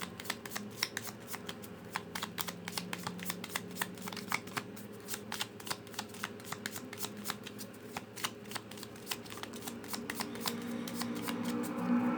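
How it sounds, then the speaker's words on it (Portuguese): A deck of tarot cards is shuffled continuously, giving a rapid, steady patter of soft card slaps and riffles, close and clear for the whole stretch. "embaralhando as cartas, colocando as opções na mesa"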